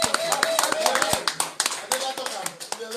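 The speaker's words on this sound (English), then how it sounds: "Una clap for that talk." Audience clapping after a talk at a book launch in the UK, a burst of hand claps with uneven rhythm, mixed with voices speaking over it.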